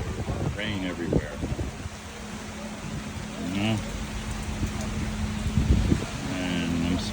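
Rain falling steadily at the outdoor Cotswold Farmers Market, a constant broadband hiss under someone talking close by, with a few louder bumps and other voices in the background.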